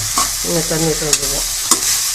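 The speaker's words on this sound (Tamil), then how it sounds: "இப்போ நல்லா மிக்ஸ் பண்ணிங்க." Potato curry with turmeric is stirred in a frying pan, a low sizzle under a few close scrapes and knocks of the spoon against the pan over a couple of seconds.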